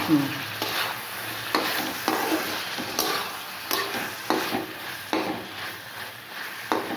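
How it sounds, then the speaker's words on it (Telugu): Chicken fries in oil in a pan for a pepper garlic dish, sizzling steadily while a utensil stirs and scrapes in repeated strokes, close and clear, with no voices. "అలా వేగుతూ ఉంటుంది."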